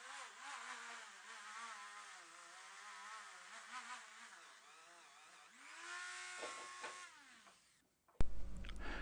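A small Dremel fitted with a wire brush scrubbing surface rust off a brake caliper, a high whining buzz that rises and falls in pitch as the load changes, then winds down before a sudden louder burst of noise.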